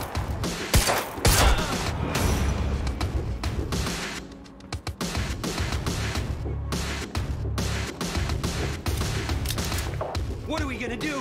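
Bursts of automatic gunfire in the game Quantum Break during a campus escape, rapid volleys and thuds mixed with shouting voices, loud and close, with brief lulls between firing.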